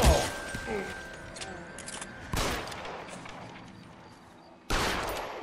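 Gunfire in the crime video game L.A. Noire: a loud burst of shots at the start, another sharp volley mid-clip and a final blast near the end, with rattling decays between.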